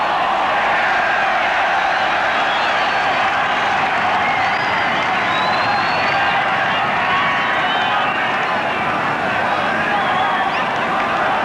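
A large football stadium crowd cheers Northern Ireland against West Germany, a dense, loud, sustained roar of voices and whistles that holds steady throughout.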